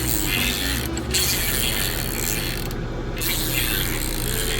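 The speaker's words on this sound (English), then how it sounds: "The crank rotating assembly turned real smooth, real shiny and smooth." The crankshaft rotating assembly of a 1990 Honda CRX Si engine is turned by hand, giving a continuous close mechanical whirring with ratchet-like clicking that stays steady and fairly loud, with no voices.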